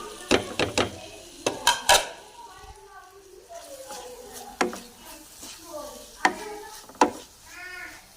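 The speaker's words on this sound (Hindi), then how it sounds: "चिकन डालने के बाद मिक्स करेंगे" Chicken is stirred into bread roll filling in a pan, with a spoon clanking sharply against the metal in irregular scrapes and knocks over a soft sizzle, while someone talks throughout.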